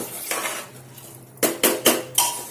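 Rice being roasted with spices in a pan for masale bhaat, a utensil scraping and clinking against the metal pan in a few sharp strokes, the last four quick and close together, with no talk.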